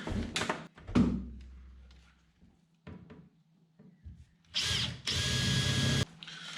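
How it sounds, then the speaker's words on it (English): A power drill bores a hole into a fishing boat's hull during fit-out, with short bursts early on and a loud sustained run near the end, close by, interspersed with clunks and handling noises. "Let's drill that middle one first."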